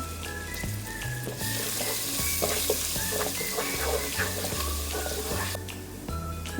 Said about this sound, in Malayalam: ഇനി ഈ സെയിം എണ്ണയിലോട്ട് തന്നെ നമ്മൾ ബാക്കിയുള്ളതെല്ലാം ഒന്ന് വഴറ്റിയെടുക്കാൻ പോവാണ്. ആദ്യം തന്നെ ഇഞ്ചി വെളുത്തുള്ളിയുടെ ആ ഒരു ക്രഷ് ചെയ്ത് അങ്ങോട്ട് ഇട്ട് കൊടുക്കുകയാണ്.